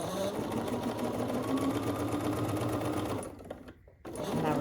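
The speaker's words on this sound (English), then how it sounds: "making sure I'm sewing it the right way this time" A sewing machine stitches a quilt block with a steady, buzzing mechanical whir that pauses briefly near the end and then starts again, with a voice speaking quietly over it.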